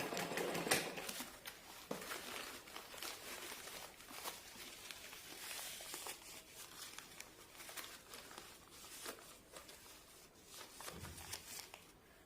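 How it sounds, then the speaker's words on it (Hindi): Sewing machine stitching a saree lace border on a paper backing, a faint continuous patter of stitching with uneven rustling and crinkling, heard close and quiet with no voices. "तो मैं इस तरह से सीधे इसको सिल लेती हूँ।"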